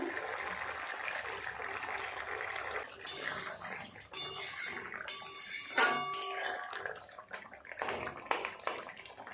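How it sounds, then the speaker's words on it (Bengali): A metal lid lifted off a pot of simmering potatoes and pointed gourd, with clinking cookware and light clattering knocks scattered through a quiet kitchen background. "ঢাকাটা খুলে এবার দেখি কেমন সিদ্ধ হলো সবজিগুলো"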